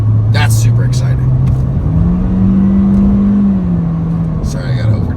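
A rental car replacing a Honda Civic Type R accelerating to overtake, engine note rising then falling back, heard from inside under continuous road noise.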